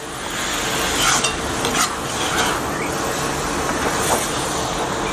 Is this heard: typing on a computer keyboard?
no